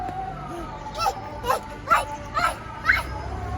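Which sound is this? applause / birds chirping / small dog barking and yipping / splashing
small dog barking and yipping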